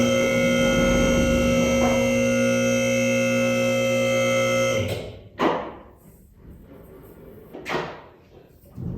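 A vehicle lift lowering a 2020 Chevy Silverado 2500HD 4x4 on 35-inch tires gives a loud, steady electric motor hum for about five seconds, then stops, followed by a few short thumps and clunks.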